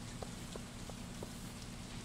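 Rain in the Stardew Valley video game, a soft, steady patter of falling drops heard quietly throughout, with a few faint recurring tapping accents.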